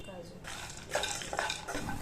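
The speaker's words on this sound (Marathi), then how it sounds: "पुन्हा अर्धा चमचा तूप टाकून काजूचे तुकडे भाजायचे" Cashew pieces roasting in ghee in a kadhai, a soft continuous sizzle with a utensil clinking and stirring against the metal pan, close and fairly quiet.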